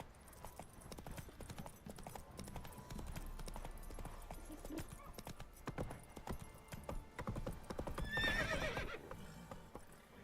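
Roach the horse in The Witcher 3 trots with steady clip-clop hoofbeats, then gives a clear whinny near the end over faint game background.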